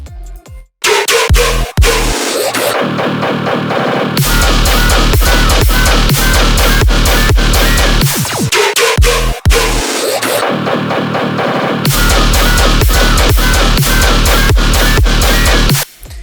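Heavy, gritty electronic tearout bass growls over a pounding drum beat, loud and dense, with brief breaks where the bass drops out before slamming back in.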